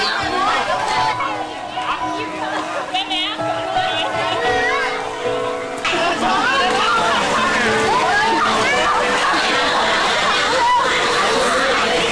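Children splash and play in the swimming pool of the Wattika Resort hotel, water sloshing and splashing steadily under lively crowd chatter and shouts, with a voice talking over the busy, continuous pool noise.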